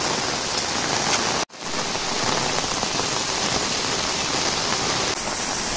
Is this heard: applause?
no